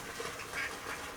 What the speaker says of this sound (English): got some ducks going berserk outside